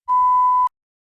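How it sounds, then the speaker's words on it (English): A single clean electronic beep sounds as a TOEFL speaking practice test prompt, a steady pure tone about half a second long followed by silence. "Begin to prepare your response after the beep."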